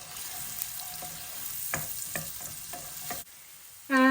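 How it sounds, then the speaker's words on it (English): Onions frying in a hot pan, a soft steady sizzle broken by scraping stirs, briefly quieter before a louder burst near the end. "Once it's hot, I'm going to add the onions."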